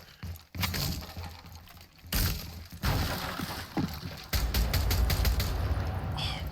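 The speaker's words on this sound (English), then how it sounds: "Sound of that new gun is absolutely freaking amazing" A new gun in Rainbow Six Siege fires in sharp bursts, a few isolated cracks early and then a fast string of close, loud shots with glassy, shattering edges near the end.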